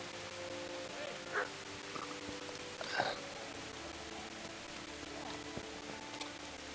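A dog in a video game gives a few short, scattered yips and barks at a distance over a low, steady background hum, with quiet gaps between the calls.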